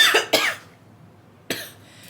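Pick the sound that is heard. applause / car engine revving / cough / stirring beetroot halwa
cough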